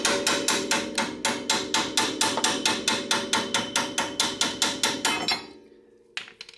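A hammer taps on a rusty front strut part of a 2000 Honda Civic, about twenty quick, even metallic blows in a steady rhythm, close and clear, then a pause and one lighter knock.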